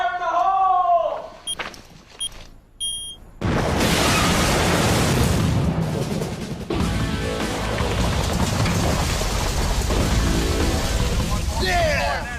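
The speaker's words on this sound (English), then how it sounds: "It detonated a neighboring tunnel that we hadn't found, which was full of ordnance, and of course the explosion was horrendous." Unexploded ordnance blown up inside an underground tunnel, setting off a second ordnance-filled tunnel nearby: a loud, sustained roaring blast that erupts suddenly after brief shouting and rumbles on for several seconds.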